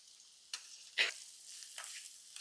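Onion, green chilli, beans and carrot go into a pan for a stew, giving a faint, soft sizzle punctuated by a few brief scraping stir sounds, heard quietly with no talking.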